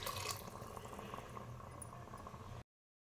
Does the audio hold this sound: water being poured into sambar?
yes